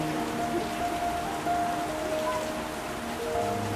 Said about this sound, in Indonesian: Sekarang ini lagi hujan deras